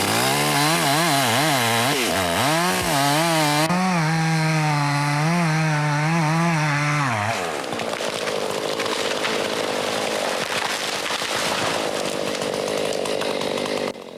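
A chainsaw cuts into a felled black cherry tree, loud and close, its engine pitch rising and falling with the cut before settling into a steady, strained whine through the wood.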